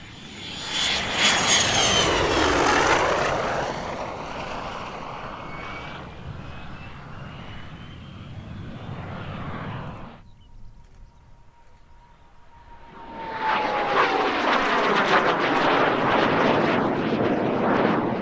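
A vintage L-29 jet trainer from a Slovak display team roars past at a Polish airshow, loud and close, with a Doppler sweep, a quieter whine between passes, then another loud roaring pass.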